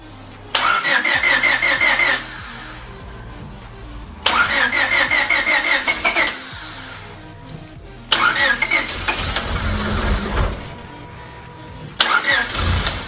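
A rebuilt Honda B18B1 engine cranks and fires three or four times in succession, each time catching and running loudly for about two seconds before cutting out, with brief quiet gaps between attempts.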